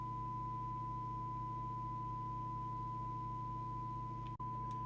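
Steady, faint test tone from the speaker output of a Cybernet Beta 2000 CB radio, holding constant over a low hum and ending with a brief click.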